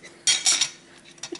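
A metal spoon scrapes and clinks against a dish while scooping adjika sauce, two short bursts, close by, followed by a few faint taps.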